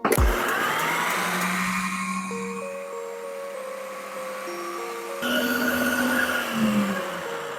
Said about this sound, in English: I'm gonna turn it on and then hit mix.